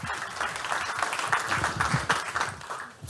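A crowd at a business climate survey event applauds to welcome Business Sweden's CEO, a dense, steady wash of many hands clapping close and full before tapering off near the end.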